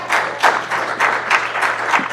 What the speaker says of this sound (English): I'd give him a round of applause, absolutely.